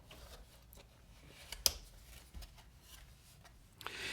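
Cardboard box holding a Fox Knives OG knife being opened by hand, quiet rustling and scraping with a few sharp ticks and snaps scattered across a few seconds, close and faint.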